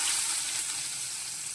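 Capsicum chillies hit hot oil seasoned with a pinch of asafoetida for a spring roll filling, giving a steady, bright, loud hissing sizzle with no voices.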